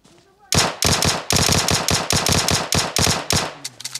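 Rapid automatic gunfire in PUBG on the desert Miramar map, a dense run of loud, closely spaced shots after a brief quiet start, tapering to a few scattered pops at the end.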